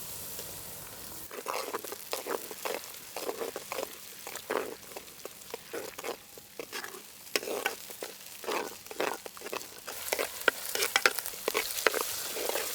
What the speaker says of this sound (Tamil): இப்போ அரைச்சி வச்சிருக்க தக்காளி சேர்த்துக்கலாம்.